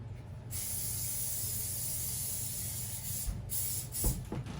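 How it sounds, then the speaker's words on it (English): Cooking spray hisses steadily from an aerosol can into a clear 8x8 baking pan for about three seconds, close and fairly loud, then stops, followed by a few light clicks and handling noises. "I'm just going to spray this with some cooking spray."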